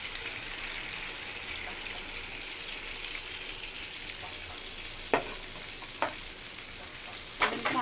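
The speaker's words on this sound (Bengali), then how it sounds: "মাংসের উপরে এরকম তেল ফুটে উঠলে এ পর্যায়ে আমরা পানি অ্যাড করে দেব মাংসটা ভালো করে সেদ্ধ হওয়ার জন্য।" Meat frying in bubbling oil in a pot, simmering with chana dal and meat spices, gives a steady soft sizzle with a faint trickling quality, broken by a few sharper clinks or stirring knocks near the end.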